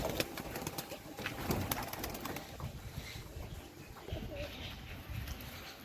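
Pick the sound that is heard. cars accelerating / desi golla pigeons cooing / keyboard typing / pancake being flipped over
desi golla pigeons cooing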